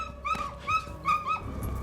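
A dog whimpers after being kicked in a Polish slasher horror film, giving about four short, high, whining cries in quick succession, close and fairly clear over a low background.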